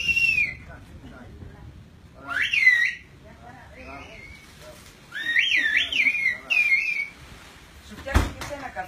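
A person whistles several short tonal phrases and slides, fairly close, with quiet gaps between them and a sharp knock near the end.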